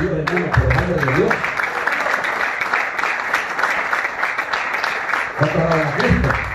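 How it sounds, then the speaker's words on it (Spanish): A church congregation applauds in a steady, continuous wash of clapping that fills the space, with a voice speaking over it at the start and end. "Denle un aplauso a Dios"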